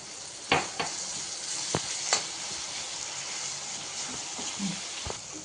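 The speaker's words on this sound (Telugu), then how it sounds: "ఆనియన్స్ ఫ్రై అయినాయి." Onions fry in a pan with salt and a pinch of turmeric for a tomato curd chutney, a soft steady sizzle close by, broken by several sharp clinks and scrapes of a spoon stirring against the pan.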